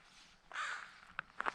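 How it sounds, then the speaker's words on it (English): A bird calls repeatedly outdoors, crow-like caws sounding as a few short bursts, moderately close and fairly loud against a quiet background, with no talk over it. "that bird just keeps on yakking"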